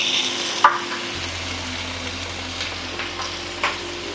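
Chicken pieces coated in masala spices fry in a pan, a steady close sizzle with a couple of stirring scrapes and clacks, no talk.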